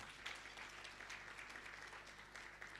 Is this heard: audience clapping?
yes